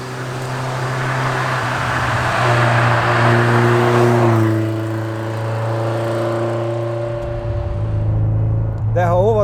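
The V8 engine of a sports car drones while driving, its pitch climbing steadily, then dropping at a gear change and pulling again. Someone talks over the loud engine note throughout.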